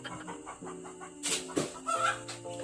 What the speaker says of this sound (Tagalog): Wait lang, ang ingay na manok.